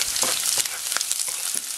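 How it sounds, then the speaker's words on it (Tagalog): Garlic sautéing in hot cooking oil, a close, bright crackling sizzle with quick pops and a few stirring scrapes, steady throughout with no talk. "Igigisa po natin yung ating mga ingredients."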